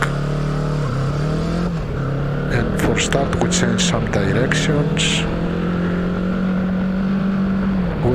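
A QJ Motor SRT700 motorcycle engine drones steadily while the bike is ridden, holding a constant pitch with slight dips as it shifts. Someone talks over the engine throughout.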